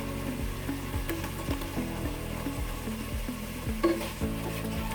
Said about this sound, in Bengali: ভালো মতন নাড়াচাড়া করে নিব এবং গুঁড়া চিংড়িগুলোকে আমি ভালো মতন কষিয়ে নিব